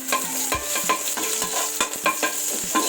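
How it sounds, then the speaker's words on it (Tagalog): Garlic fries in a pan while a utensil stirs it, giving repeated rhythmic scrapes and taps about every half second over a continuous close sizzle. "Pag-brownin po natin ang bawang."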